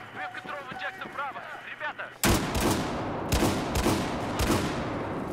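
Shotgun blasts in the Battlefield 4 multiplayer video game: after a short stretch of talk, several loud, close booming shots land about one per second, each followed by ringing tail and rumble.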